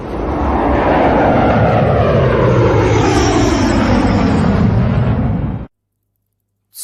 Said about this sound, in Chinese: 此物臣名为战斗机，是我大夏后世的长空利刃